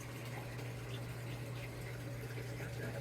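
Samsung washing machine filling with water for a second rinse, a steady low hum of the inlet flow with a continuous rushing wash of water, unbroken and close.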